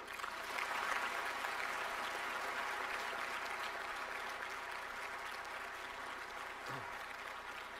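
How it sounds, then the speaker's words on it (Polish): A large audience at a university senate ceremony claps steadily for the whole stretch. The sound is a dense, even wash of hands with no break. "gorąco proszę o burzliwe oklaski"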